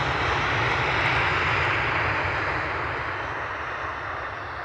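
Ryanair jet airliner at Edinburgh Airport on an icy day, a steady, broad engine roar that holds near and loud, then slowly fades a little with no speech over it.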